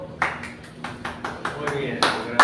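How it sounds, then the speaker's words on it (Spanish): Sparse hand claps ring out during a church service, a few sharp claps spaced across a couple of seconds with a voice speaking beneath them. "Fuerte aplauso"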